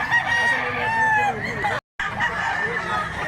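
A rooster crows nearby in a long, drawn-out call, followed by more crowing after a brief cut to silence.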